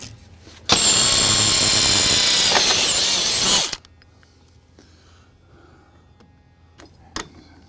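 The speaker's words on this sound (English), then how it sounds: "And start drilling." A power drill whirs loudly for about three seconds while drilling holes to mount a TorkLift GlowStep RV stair unit, then stops, leaving quiet with a few light clicks and taps.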